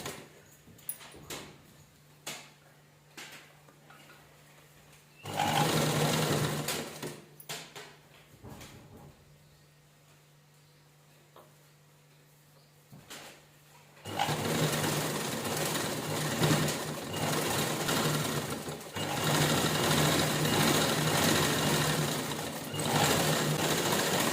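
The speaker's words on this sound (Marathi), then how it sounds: "पूर्ण राऊंड छान असं स्टिच करून घ्यायचं" A domestic sewing machine stitches around the edge of old denim jeans fabric, running in two long, steady, loud bursts separated by a quieter pause with small handling clicks.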